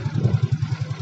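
A Yamaha Mio J motorcycle with an ignition fault runs nearby, giving a loud, close, even putter of rapid regular pulses through a short burst.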